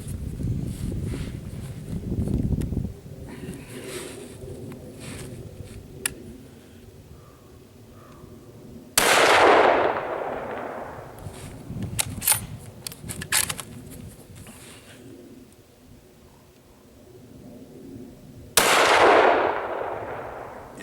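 Two sharp, loud Remington 700 ADL Varmint .308 rifle shots at a target range, each a sudden crack followed by a decaying echo, spaced about nine seconds apart with quieter outdoor background between.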